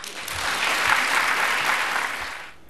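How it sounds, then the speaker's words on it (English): A crowd at a Republican Jewish Coalition event applauds in a room, a dense wash of clapping that swells, holds steady, then tapers off at the end. "You heard the applause in the room."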